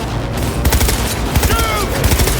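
Rapid bursts of gunfire in the Cyberpunk 2077 video game, loud and close, with clustered shots repeating through a dense, busy game mix.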